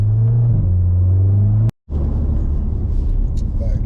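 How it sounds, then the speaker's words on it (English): A lowered VW Golf R Mk7 exhaust drones steadily while the car drives along, a deep continuous rumble that briefly cuts out before resuming at a similar level. "that exhaust sounds nice and beefy as well"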